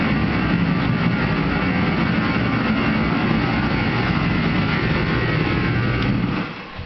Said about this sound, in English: I got the heater fired up.